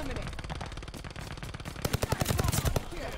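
A grease gun submachine gun in Call of Duty Vanguard fires continuous rapid automatic bursts that grow louder and punchier partway through.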